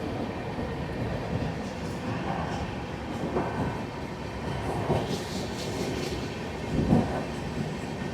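Shatabdi Express 12025 on the Pune to Hyderabad run, heard as a steady, loud rumble of the moving train with rail noise throughout, a few brief louder knocks rising out of it, and no talking.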